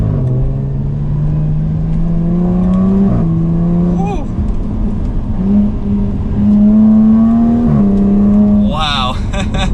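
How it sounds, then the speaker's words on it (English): A 2021 Jaguar F-Type R-Dynamic V6 pulls away from a stop in manual mode through a slight turn, its exhaust rising in pitch through a gear change with a brief dip, loud and close, with a man's short exclamation near the end. "That exhaust sounds good for a V6."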